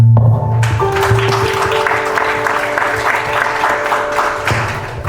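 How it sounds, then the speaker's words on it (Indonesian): Applause from guests at a church holy matrimony ceremony, a steady dense clapping lasting several seconds over a sustained organ-like tone and low thumps. "Boleh beri tepuk tangan."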